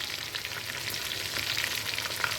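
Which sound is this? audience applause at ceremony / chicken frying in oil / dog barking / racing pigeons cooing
chicken frying in oil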